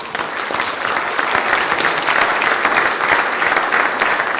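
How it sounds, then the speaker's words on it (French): An audience applauds at a French training conference, a dense, steady burst of clapping that swells slightly and carries on throughout without any voices. "Applaudissements."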